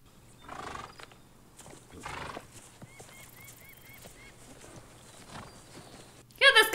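Horse neighs and whinnies rise twice over a busy period-drama soundscape from the Japanese samurai series Shogun, with faint hoof and movement noises between. A louder, sharper burst of sound closes the scene.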